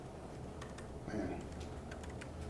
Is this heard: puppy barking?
no